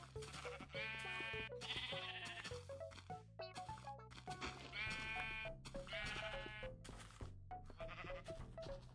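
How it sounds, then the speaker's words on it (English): Several sheep bleat repeatedly in the Minecraft Indev game, their harmonic cries loud and close, overlapping with a steady in-game music or ambient tone throughout. "it seems like we got more sheep here"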